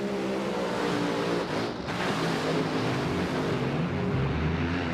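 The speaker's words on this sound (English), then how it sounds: "Couple of tire smokers, but Doug Herbert recovers, gets there first" Top fuel dragsters launch at a drag race, a loud continuous engine roar with harmonic bands filling the whole clip, tires smoking, no voices heard.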